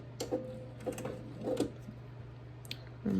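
A sewing machine stitching fabric at slowed speed, short bursts of rapid mechanical whirring and ticking separated by pauses, close up, with a louder burst at the end.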